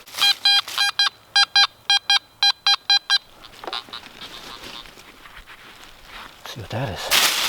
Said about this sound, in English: let's bust out the little detector and see if we can pluck a nail or something.